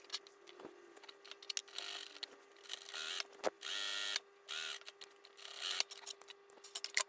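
A sewing machine stitching a U-shaped seam to attach a pocket on a dress, heard as short, quiet mechanical bursts that start and stop irregularly, close by.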